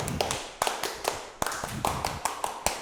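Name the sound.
scout-style rhythmic clapping (tepuk pramuka)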